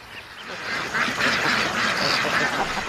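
A crowd of ducks on a farm quacks continuously, with overlapping nasal calls at close to mid distance and no clear speech.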